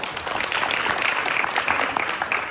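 A round of applause at a staff meeting, dense and even clapping from a room of people, sustained at moderate volume for a few seconds.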